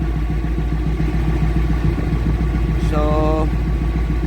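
A Caterpillar 988F2 loader's diesel engine, suffering hard starting, black smoke and knocking, idles loud and close in a steady rough drone with a low rhythmic pulse, and someone speaks briefly over it.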